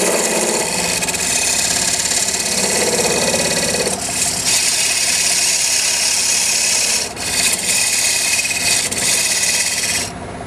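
A scraper cuts a mahogany platter spinning on a wood lathe, giving a loud, continuous rasping scrape over the motor's hum, with brief dips as the tool lifts off near the end.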